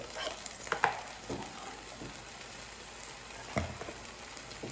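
Kimchi juice hitting frying noodles in a hot pan gives soft sizzling with a few stirring clatters, quiet and close, with two brief louder splashes.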